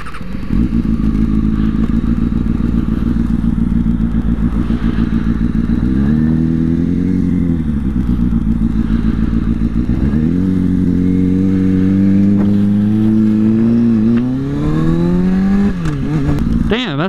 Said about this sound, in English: that's the second time this bike died on me